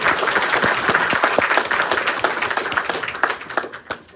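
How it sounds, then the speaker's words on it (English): An audience at a vintage car meeting breaks into dense applause, many hands clapping close and loud before the clapping thins and fades out. "Let's give a round of applause for our sponsors."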